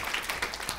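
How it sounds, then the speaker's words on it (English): An audience at the 2015 Skoll World Forum breaks into applause, a dense wash of many hands clapping at close range, steady and fairly loud for a brief moment. "Give a round of applause"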